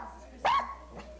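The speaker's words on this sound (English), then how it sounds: "So Maria Pahalik took the dog outside." A dog barks outdoors during an early morning walk: one sharp, close bark followed by a softer second bark, over a quiet background.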